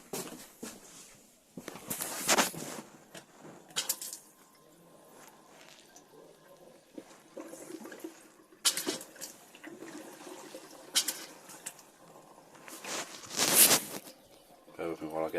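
A tap in a Bailey Unicorn Pamplona caravan sputters and spits as air is purged from the water system, with irregular loud bursts of gushing water between quieter stretches and a person talking in between.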